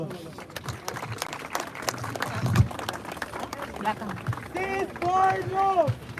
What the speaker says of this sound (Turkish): Onlara büyük bir alkış alalım